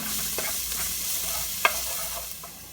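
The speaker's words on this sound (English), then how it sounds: "Stir it around quickly as it cooks." Garlic fries over medium-low heat in a pan, a soft steady sizzle broken by a few light scrapes and taps of a utensil stirring it, close and without any voices.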